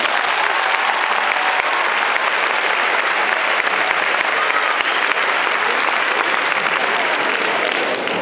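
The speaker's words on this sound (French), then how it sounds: "Je crois que ça s'applaudit aussi." Steady, dense applause from a large audience fills the Toulouse Zénith at a comedy show, holding loud and even throughout with no break or talking.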